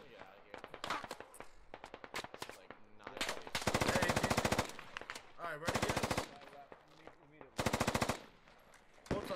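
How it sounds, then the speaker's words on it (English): Machine gun fire in a combat video game comes in rapid bursts of varying length, some long sustained strings and shorter clusters, fairly loud, with players' voices faintly in the mix. "the gunfire sounds in this game is so realistic"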